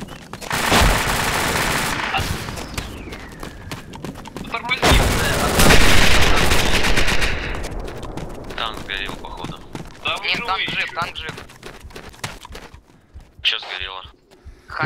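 Rapid bursts of ArmA 2 ACE gunfire, RPG shots and explosive blasts in a team-versus-team match, loud and dense early on, then scattered shots under continued talking and radio chatter.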